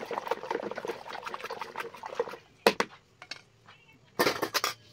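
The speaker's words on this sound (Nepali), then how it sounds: "मनतातो पानीमा हार्पिक हालेर यसरी घोल्नुपर्छ" Harpic cleaner stirred into lukewarm water with quick clinking, sloshing strokes in a container, a busy burst at first, then pauses broken by a few sharp knocks and a final flurry of stirring.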